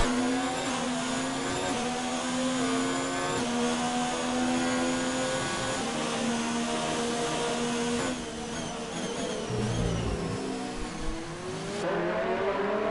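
Formula 1 cars race in the F1 2019 video game at the Azerbaijan Grand Prix, with a continuous, loud, high-revving engine whine that shifts pitch through gear changes and a brief dip midway.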